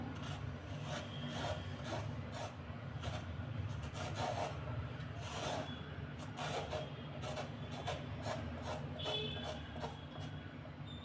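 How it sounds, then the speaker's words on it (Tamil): Bottle gourd skin scraped off with a metal spoon, a steady run of rough rasping strokes repeating close up, with no talking. "இந்த மாதிரி ஒரு கரண்டி வச்சு இந்த மாதிரி இழுத்து விட்டிங்க அப்படின்னா மேலே உள்ள தோல் மட்டும் கரெக்டாக நமக்கு வந்துடும்"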